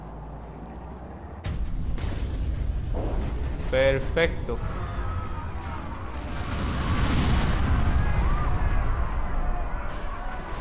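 Explosions and booms from a city blackout in the video game Watch Dogs, low rumbling bursts building and swelling over the clip, with someone speaking briefly over the noise.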